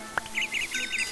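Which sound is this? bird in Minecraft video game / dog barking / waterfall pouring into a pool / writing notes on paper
bird in Minecraft video game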